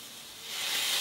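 Soy sauce poured over well-cooked red meat in a hot pan makes a soft hiss that swells to a louder, steady steaming sizzle after about half a second, close by with no voices.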